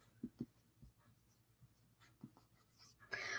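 Pen or pencil writing down notes, quiet scratchy strokes in short bursts, with soft breathing and a louder rustle near the end.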